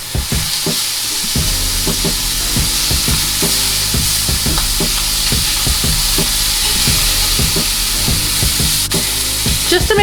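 Lamb chops with garlic fry in a pan, giving a loud, constant sizzle while the meat is moved around, with repeated scraping and knocking taps over the steady hiss.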